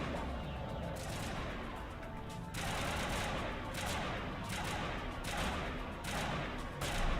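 Sustained gunfire from Mass Effect 1, a dense continuous barrage of rapid shots and bursts that runs loud through the whole stretch with no voices over it.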